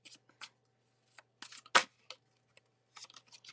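Tarot cards being shuffled by hand, giving a series of short, soft papery riffles and taps in scattered bursts, close and fairly quiet, with one louder slap partway through and no talking.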